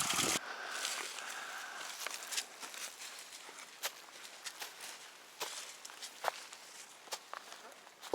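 Footsteps on a forest trail in the Ozark Highlands: steady crunching steps on dirt and leaves, close and fairly loud, with irregular scuffs and snaps between strides.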